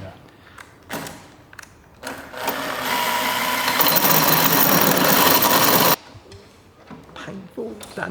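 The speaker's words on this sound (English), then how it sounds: "Oh yeah, the actual drill bit's coming through." Drill bit boring through the boot lid of a BMW G82 M4, a harsh whining grind that runs steadily for about three seconds and then stops abruptly, with brief knocks and handling sounds before and after.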